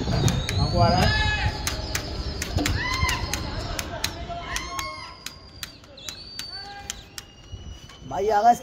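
Racing pigeons in a pigeon-flying contest in Amroha, heard through fog as bursts of wing flapping and bird calls, with people chattering nearby throughout.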